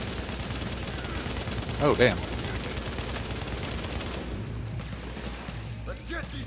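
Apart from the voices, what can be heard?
gunfire from enemies shooting, from a video game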